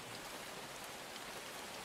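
Steady rain falls as ambience during a tabletop role-playing session, an even, dense hiss of drops on a surface with no voices over it.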